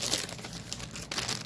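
A plastic bag holding a craft stamp kit crinkles up close as the kit is pulled out, a continuous run of crisp rustling with a few sharper crackles.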